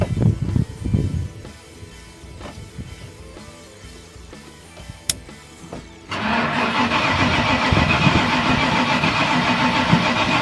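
The engine of a 1996 Ford F250 4x4 is cranked, with uneven grinding and churning chugs at first, then a quieter stretch and a sharp click. After that a loud, steady rumbling drone continues to the end.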